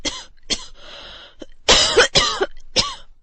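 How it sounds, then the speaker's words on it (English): A person coughs in a series of harsh, close bursts, a few short single coughs followed by a louder cluster of hacking coughs and a final one, with throat clearing in between. "you are coughing already"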